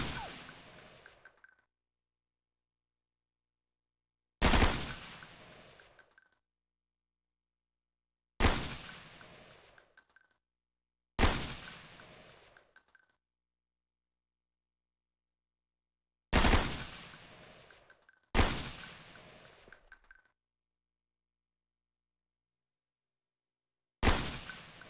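Gunfire at targets in the Xbox game Ghost Recon: Island Thunder, seven sharp, loud shots or short bursts spaced a few seconds apart, each trailing off in a ringing echo, with silence between.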